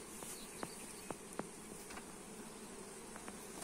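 Honey bees buzz around an apiary hive. The buzzing is a steady, fairly faint hum with a few brief louder passes of single bees close by, and no talking.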